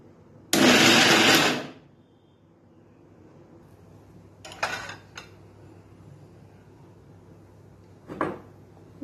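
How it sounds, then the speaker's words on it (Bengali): A kitchen mixer grinder blitzes ginger, garlic and chili in one loud, roughly one-second burst, followed by quiet kitchen sounds and a couple of short clinks and rattles. "আদা রসুন লঙ্কা একসাথে বেটে দেবো"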